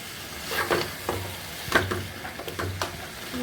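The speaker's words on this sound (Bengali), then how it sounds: "এই সবসাগুলো কষানো হয়ে এসেছে আর একটু কষাবো" Fish sautéing with spices in a pan, a steady fry with repeated stirring scrapes and taps at an irregular pace, close and alone.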